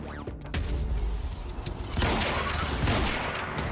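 Rapid gunfire from the video game Quantum Break during a sniper fight, dense bursts of loud shots with booming impacts, intensifying after a brief lull near the start.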